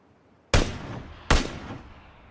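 Two sharp gunshots in the PlayerUnknown's Battlegrounds video game, fired under a second apart, each loud with a booming reverberant tail.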